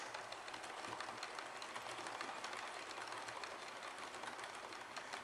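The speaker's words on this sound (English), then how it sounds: "I can stand and watch and listen to the trains rattle past" Model trains rattle past on a double-track layout with track notched at roughly scale 40-foot panels, a steady continuous clatter of wheels over rail joints, close and even throughout with no talk.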